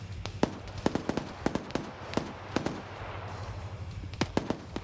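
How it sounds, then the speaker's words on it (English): Grenade blasts and gunfire crackle through a military battle game, with a dozen or so sharp, irregular bangs at varying distances over a low steady background rumble, with no talking. "we do have grenades being thrown in here"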